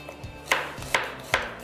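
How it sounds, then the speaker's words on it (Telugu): Half an onion is roughly chopped on a board for flavouring stock, giving three crisp, evenly spaced knife thuds that are close and clear, with no talk. "రఫ్గా చాప్ చేసేయండి."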